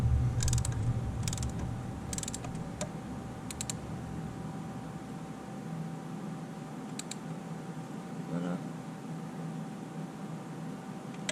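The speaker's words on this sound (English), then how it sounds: "I'm going to go 110 on the torque wrench" Torque wrench ratcheting down oil filter housing bolts on a Jeep 3.6L engine, short bursts of fast clicking at intervals over a steady faint hum, then quieter pauses, no speech.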